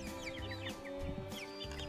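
Meat chickens about five or six weeks old cluck and chirp steadily at close range, several birds overlapping in a busy, continuous chatter with no talking.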